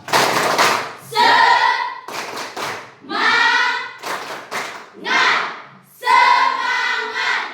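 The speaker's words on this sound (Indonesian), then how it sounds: "Ya, tepuk semangat." A group claps in a rhythmic cheer pattern, close and loud, with bursts of quick claps alternating with shouted chanting voices in repeated short phrases.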